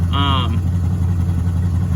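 A car engine idles smoothly after a fuel injection cleaner treatment. It makes a steady low hum at close range, with a short whistling tone early on.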